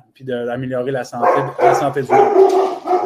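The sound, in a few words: dog barking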